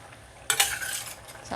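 A spoon or spatula scrapes and stirs through dried bamboo shoots cooked in soy sauce in a large pot, a sudden close burst of scraping with a faint sizzle, then a softer scrape.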